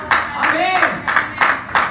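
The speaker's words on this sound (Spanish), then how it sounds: "¿cuántos le pueden dar un fuerte aplauso a la gloria de Dios?" Church congregation applauds in a few quick bursts of clapping, fairly close and brief, with a voice speaking over the claps.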